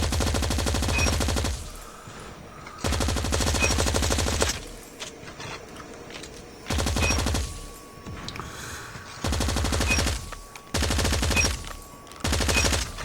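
Bursts of automatic AK117 rifle fire in the Call of Duty Mobile game, in four or five loud sustained volleys of a second or two, separated by quieter stretches of in-game ambience.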